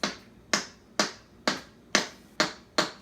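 Imitated popcorn kernels popping, made with empty plastic water bottles: seven sharp, close snapping pops arrive at an even, quick pace with no voices.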